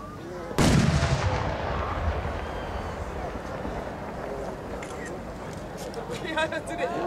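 Loud fireworks shells burst at an 8-inch shell fireworks competition in Aizu, a sharp boom followed by a long rumbling, crackling tail, with faint scattered crackles later on.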